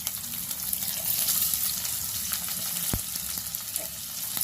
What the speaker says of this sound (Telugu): ఉల్లిపాయ పచ్చిమిర్చి ముక్కలు వేస్తున్నాను